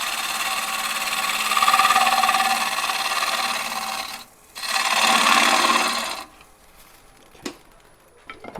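Lathe gouge cutting highly figured English walnut, a continuous rasping hiss of the tool on spinning wood, breaking off briefly, resuming, then stopping into a quiet motor hum with a faint knock.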